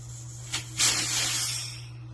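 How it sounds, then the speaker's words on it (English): Air escapes from the valve of a tubeless YUME electric scooter tire, first as a brief puff and then as a loud, sustained hiss that tapers off toward the end. "we're gonna need to open the air valve"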